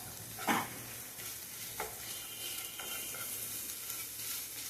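Spiced mashed-potato sandwich stuffing with chilli powder and salt being stirred in a pan, giving a few soft scraping strokes over a faint steady sizzle, quiet and close with no talking.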